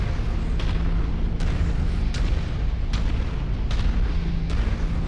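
Heavy weapons fire in the mech combat game Mechwarrior 5: Mercenaries, a constant low rumbling roar broken by about seven dull booming impacts at irregular intervals, loud and dense with no voices.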